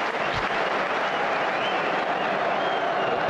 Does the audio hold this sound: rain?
no